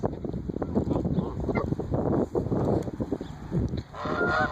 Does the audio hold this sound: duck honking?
yes